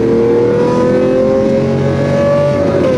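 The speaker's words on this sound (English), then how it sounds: "the symphony of the exhaust note, specifically the F1 noise, just makes this car so much better" A Lamborghini Aventador's V12 exhaust wails loud and close as it accelerates, a sustained high-pitched engine tone that climbs steadily with rich harmonics, no voices over it.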